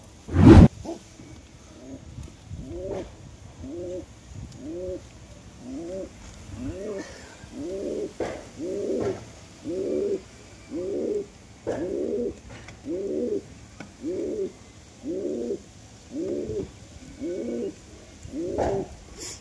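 A pigeon coos nearby in a steady run of evenly spaced, throaty phrases, about one every second, after a sharp knock at the start.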